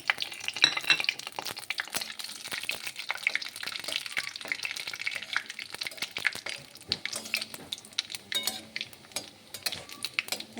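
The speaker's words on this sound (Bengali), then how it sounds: "তেলটা গরম হয়ে গেলে কালো জিরে আর শুকনো লঙ্কাটা দিয়ে ফোড়ন দিয়ে দেবো" Nigella seeds and dried red chilli spluttering in hot oil as a tempering for masoor dal, with a close, crackling sizzle, occasional pops and light stirring clinks, and no talking.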